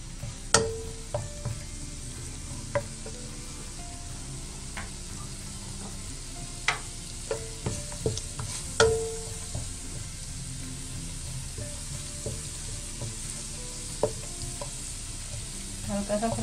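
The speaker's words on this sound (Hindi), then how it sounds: "पेस्ट डाल दें लहसुन गार्लिक का। इसको हल्का सा फ्राई करें" Garlic paste frying lightly in a pan while a utensil stirs it, giving a soft steady sizzle broken by scattered scraping and tapping clicks, with no talk.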